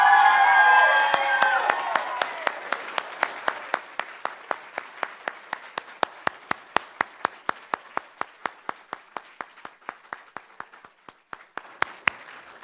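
An audience at a Poetry Out Loud state finals competition bursts into applause and cheering, loud and full at first, then thinning into a steady run of scattered single claps that carry on alone for several seconds.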